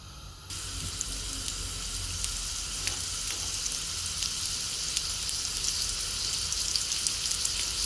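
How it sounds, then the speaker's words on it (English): Kofta meatballs fry in a pan with a steady, bright sizzle that starts abruptly and holds evenly throughout, with small crackles and pops over the constant hiss and no talking. "now we're just going to roll them into balls and fry them off"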